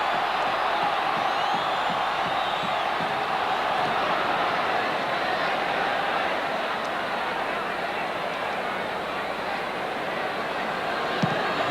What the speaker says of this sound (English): They brought a roar from the crowd